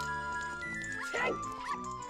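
A dog bark stands in for the hover boots sound in an Ocarina of Time randomizer, two short yapping barks over steady game music.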